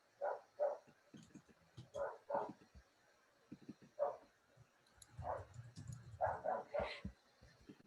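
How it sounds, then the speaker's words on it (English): A dog barks repeatedly indoors at a visitor outside, sharp barks coming in bursts of two or three, with a short whimper or yip between them and a brief low rumble near the end. "my dog is very excited about a visitor outside"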